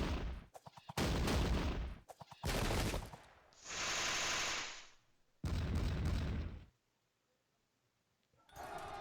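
Light-gun gunfire in the strategy video game Sengoku Jidai, heard as dense crackling volleys and bursts in several loud waves, with a sustained hiss between them before the battle noise drops to near silence.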